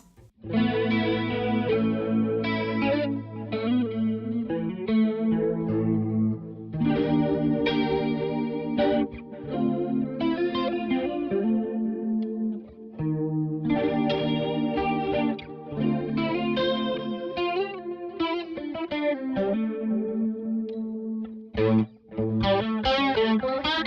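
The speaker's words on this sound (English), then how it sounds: "Now my secondary sound to this just brings on the MXR micro flanger" Electric guitar chords through an MXR Micro Flanger, with a sweeping, whooshing flanger effect, played steadily and loud with no talking.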